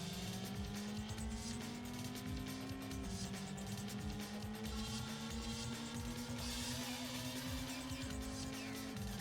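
Car engine in the PS1 racing RPG Racing Lagoon hums steadily with a rising and stepping pitch as gears shift, over a gritty road rumble and occasional tire squeal, continuous and loud.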